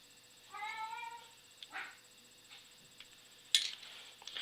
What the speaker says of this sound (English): if you hear my cat in the background, he's crying out for some reason